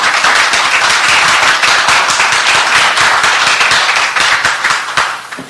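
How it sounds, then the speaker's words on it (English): A crowd applauds with loud, dense clapping that continues steadily, then starts to fade near the end. "Let's have another round of applause for them."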